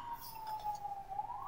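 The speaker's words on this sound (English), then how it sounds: "don't mind the sirens, I live in the city, it's constant" Steady city emergency vehicle siren wailing in the background, a continuous tone drifting slightly in pitch, moderately distant and constant throughout.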